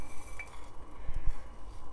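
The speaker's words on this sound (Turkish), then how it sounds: "kuşburnu atıyorum ben kaynamış suya ve bunu kısık ateşte 15 dakika kaynatacağız" Dried rosehip spooned into boiled water in a cezve, giving a few soft clinks and dull knocks over a steady kitchen background, with no talking.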